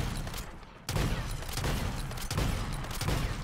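Rapid automatic gunfire mowing down zombies in MW3 Zombies, a dense, continuous burst of loud shots that thickens after a brief lighter stretch and keeps hammering with no voices on top.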